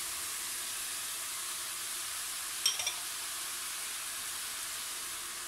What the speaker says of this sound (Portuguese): e deixo refogar mais um pouquinho